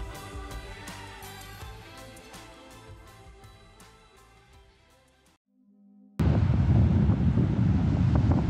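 Wind gusts buffet the microphone on the southern Oregon coast at Bandon, a steady roar that drops off, pauses briefly, then returns as a loud, close, continuous blast.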